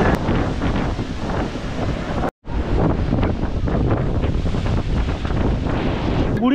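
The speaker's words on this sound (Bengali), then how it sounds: "দীঘার থেকে কিন্তু পুরীর যে ঢেউগুলো খুব বড় বড়, দেখতেই পারছেন" Large ocean waves roll in on Puri beach in a steady, loud wash of surf, heavily buffeted by wind on the microphone, broken by one brief dropout and with no voices.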